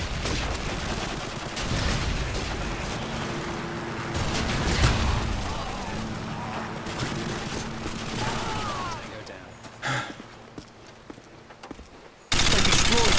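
Sentry gun firing in a video game, a dense, continuous rattle of automatic gunfire with booms mixed in, going on for about ten seconds and then breaking off into scattered shots before a loud burst at the end.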